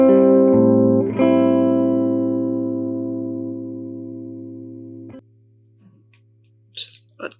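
An electric guitar runs through the compressor on a PolyEffects Beebo pedal, playing a sustained chord struck twice that rings loud and slowly fades under a steady hum, followed by a few faint scratchy handling noises.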